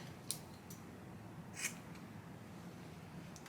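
Two crisp scissor snips trim the straggly ends of knotless braids, one early and one a little over a second later, close and quiet against a hushed room.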